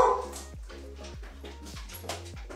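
A puppy indoors gives a rapid series of about five short, whiny yips and barks. They are close and fairly loud, and no one talks over them.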